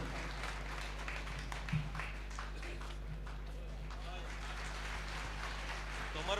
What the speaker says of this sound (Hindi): मैं गुजारिश करता हूँ नईम अख्तर खादमी साहब से आपकी जोरदार तालियों के साथ कि वो यहाँ आए